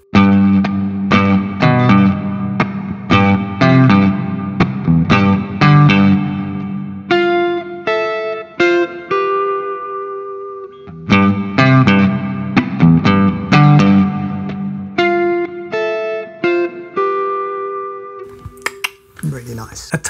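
A distorted electric guitar riff with heavy effects repeats in choppy bursts, loud and close, then drops to sustained chords before a brief scrape at the end.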